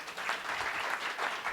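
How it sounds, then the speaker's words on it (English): A forum crowd applauds a panel with steady, dense clapping that fills the whole moment. "Can we get a hand clap for the panel, guys?"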